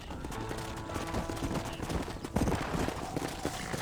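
Steady clip-clop of horse hooves in the video game Red Dead Redemption, with scattered background game sounds and a faint muffled voice underneath.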